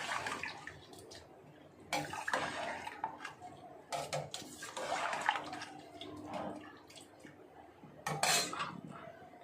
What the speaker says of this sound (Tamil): இதில் 5 டம்ளர் தண்ணி ஊற்றுறேன்.